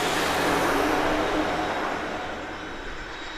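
An Embraer Praetor 600 business jet at Grand Cayman airport roars by, a loud, broad jet-engine rush that slowly fades as it moves away.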